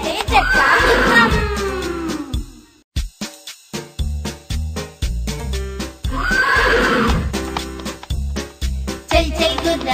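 A horse neighs twice in loud, long whinnies within a children's Telugu nursery rhyme song, set over rhythmic music with clip-clop beats between the calls.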